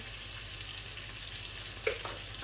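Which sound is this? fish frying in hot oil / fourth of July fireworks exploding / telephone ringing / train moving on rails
fish frying in hot oil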